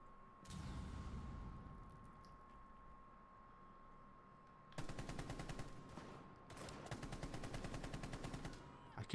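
Gunfire in the video game Rainbow Six Siege. A distant shot rings out first, then two bursts of rapid automatic fire follow after a pause, set against a low steady game hum.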